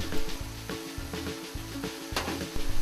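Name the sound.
ground meat and onion sizzling as they fry in a pan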